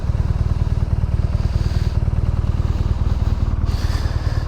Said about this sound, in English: Nice smooth rumble from that boxer.